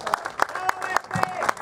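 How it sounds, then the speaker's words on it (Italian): An audience claps for Peppe at an awards ceremony after a slalom race in Alcamo, a short burst of scattered, fairly soft handclaps of irregular rhythm. "glielo facciamo un applauso a Peppe per regalare il Trapanese"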